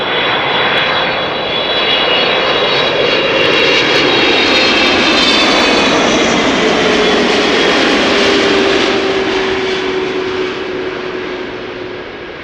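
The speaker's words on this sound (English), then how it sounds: "Atlas Air 7478 arriving from Miami, Florida" Atlas Air Boeing 747-8 arriving at Amsterdam Schiphol, a loud, sustained engine roar with high whining tones that swells and slowly fades as the jet passes close by.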